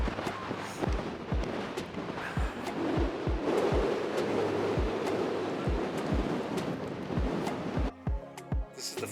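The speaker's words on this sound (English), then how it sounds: "Sorry about the wind, it's really blowing here today." Strong gusts buffet the microphone at a hillside cave fortress in Uplistsikhe, a loud continuous rumbling roar with repeated sharp thumps, steady throughout before easing near the end.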